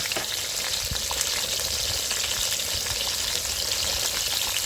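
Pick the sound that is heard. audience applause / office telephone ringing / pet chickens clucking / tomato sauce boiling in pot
tomato sauce boiling in pot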